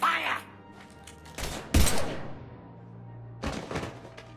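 Gunfire in the video game Mass Effect 3: a few sharp, loud bursts of shots and impacts separated by quieter stretches, with brief low voices in between.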